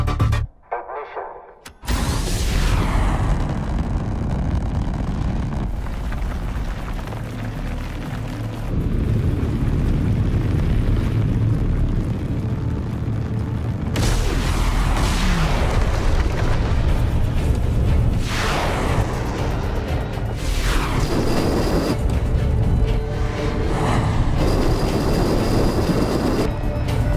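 A rocket engine ignites and roars through liftoff, a sustained loud rumbling blast that swells and surges in waves over nearly half a minute. It follows a brief quiet start and has no speech.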